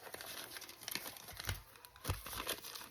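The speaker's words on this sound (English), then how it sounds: "It's got parchment paper on top of it" Crinkly parchment paper laid over sheet music in a junk journal is handled closely, giving irregular crackling and crumpling rustles with sharper crinkle bursts, and no voices.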